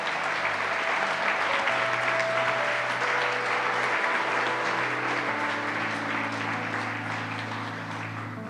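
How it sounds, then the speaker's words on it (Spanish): Church congregation bursts into sustained, dense applause during a Spanish-language Sunday sermon, loud and steady, with musical tones sounding faintly beneath it. "denle un aplauso a nuestro Rey"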